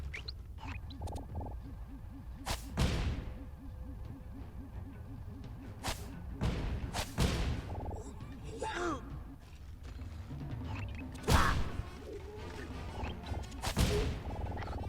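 In the Sly 4 video game, a character shoots himself, heard as several sharp, loud bursts and whooshes scattered over busy game music and effects.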